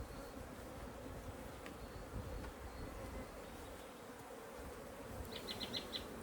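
Honeybees buzz inside an open top bar hive during an inspection, a dense, continuous hum close by with occasional louder passes of individual bees.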